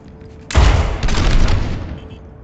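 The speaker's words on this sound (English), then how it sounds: "Fire your Helix rockets at the targets." Helix rockets fired in Overwatch 2 burst out in a sudden loud volley of rapid booming blasts that rumble on for about a second and a half before fading, close and without speech.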